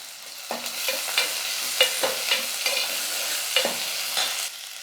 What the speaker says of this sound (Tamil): இப்போ வெங்காயம் சேர்த்துக்கிறேன் ரெண்டு வெங்காயம் கொஞ்சம் கருவேப்பிலை